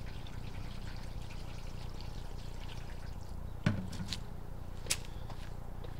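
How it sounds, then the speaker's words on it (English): Water mixed with dye is poured into a drain pipe during a sewer tie-in inspection. It gives a faint, steady trickle and dribble, with a couple of small knocks near the end. "put some dye on here with some water"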